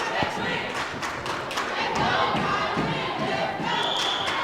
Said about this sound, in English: In the background, you hear the very vocal crowd from KIPP Delta.